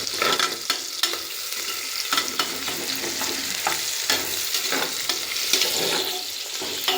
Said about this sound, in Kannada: ಇದು ಬಂದ್ಬಿಟ್ಟು ಗೋಲ್ಡ್ ಕಲರ್ ಆಗಬೇಕು, ಅಷ್ಟುವರೆಗೆ ಫ್ರೈ ಮಾಡಬೇಕು